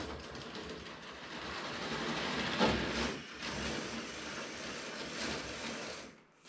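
A LEGO Theme Park roller coaster train with nine cars rattling along its plastic track, a continuous clattering run with rhythmic clicks that swells and fades as it passes.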